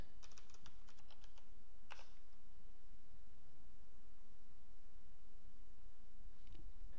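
Brief bursts of rapid computer keyboard typing at the start and again a moment later, then mostly steady background hiss.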